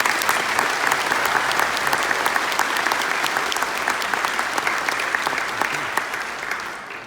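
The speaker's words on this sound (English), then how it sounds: "That deserves a round of applause." A commencement audience claps in a full, even round of applause for about seven seconds, many hands together, fading slightly toward the end.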